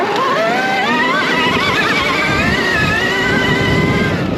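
A Sur-Ron Storm Bee electric motorbike pulls away in sport mode, a steady high motor whine rising and wavering over loud rushing noise, close and continuous with no talking.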